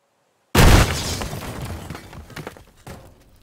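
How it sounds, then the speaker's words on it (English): Nitroglycerin detonating in the destruction game Teardown: sudden loud boom after brief silence, followed by crumbling, shattering debris that decays over a few seconds. "I'm using three explosive mods that I'll demo along with the vanilla nitroglycerin that you just saw"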